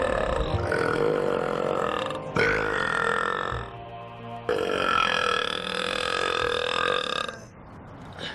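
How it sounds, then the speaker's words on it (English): A man in an English garden lets out a series of extremely loud, long, rasping burps. Three sustained belches come close together, each lasting about two seconds, with short pauses between them. "one of the loudest burps in the world, with a personal best of an ear-shattering 118 decibels"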